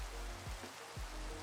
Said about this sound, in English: And this rain is super loud.